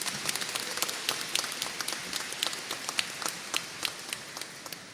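An audience at a formal ceremony awarding a medal gives a round of applause. Scattered, crisp claps patter steadily at moderate-to-low volume, with no voices.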